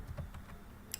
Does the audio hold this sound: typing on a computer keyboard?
yes